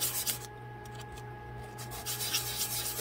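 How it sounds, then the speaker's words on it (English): Small parts of a 1:12 scale miniature toaster kit are lightly sanded by hand, giving a soft continuous rubbing rasp up close with short back-and-forth strokes over a steady electrical hum. "So if you don't want to cut them, just sand them"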